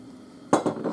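After a quiet moment, a serving utensil gives two or three quick, bright clinks against a bowl as salmon hot pot (Hokkaido Ishikari nabe) is served.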